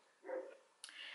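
Two short, faint barks from pet dogs somewhere in the house, the second sharper and higher, with quiet room tone between them.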